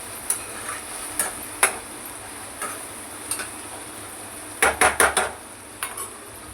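Chopped onion sautéed in a pan for a Marathi vegetable dish: a spoon scrapes and taps against the pan in scattered strokes, with a quick burst of stirring near the end over a faint sizzle.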